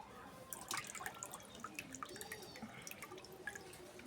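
Water drips and splashes faintly in quick, irregular drops as fish is rinsed for a curry, close by and quiet, with no voices.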